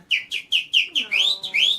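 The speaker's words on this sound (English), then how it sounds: "whistle for us, man?" Close, clear whistling by a man: a run of about eight short, bright pitched notes in a steady rhythm, later ones sliding upward, with no talking over it.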